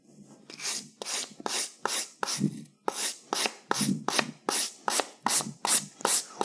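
A file card is scrubbed back and forth across the teeth of a metal file in a garage, producing loud, close, raspy scraping strokes in a steady rhythm of roughly two per second.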